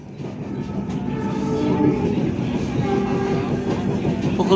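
A passenger train, the Fajar Utama Yogyakarta between Cirebon and Yogyakarta, rumbles loudly along the rails with a steady low roar and faint clattering, continuous throughout with no voices.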